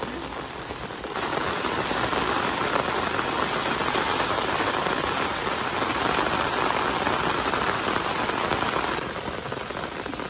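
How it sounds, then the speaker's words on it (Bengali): Heavy monsoon downpour pours steadily and loudly over an outdoor fishing spot, a dense continuous hiss that swells after the first second and eases slightly near the end, with no voices. "ও বৃষ্টি তো আজকে থামার কোনো লক্ষণ নেই"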